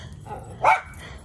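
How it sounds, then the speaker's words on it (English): A single short, faint bark from a dog in a backyard vegetable garden, a quick yip over quiet outdoor background. "no need to bark."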